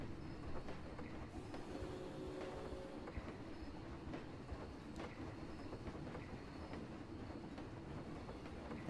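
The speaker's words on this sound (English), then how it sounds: "So yeah, this is the good old train." A train ride in the Planet Coaster video game rumbles along continuously with rhythmic clickety-clack of wheels on rails and faint squealing, a steady low rolling sound throughout with no voices.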